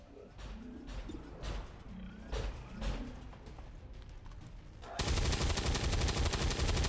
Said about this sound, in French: Dernier tir ici avec une arme conventionnelle.